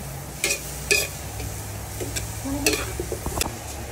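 Bamboo shoots cooked with soy sauce are stirred in a pan, with a low steady sizzle and a handful of crisp utensil clinks against the metal.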